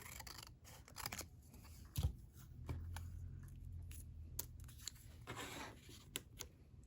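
Scissors snipping paper scraps into small pieces for craft embellishments: quiet, crisp cuts in an irregular rhythm, close up, with light rustling and handling of paper in between.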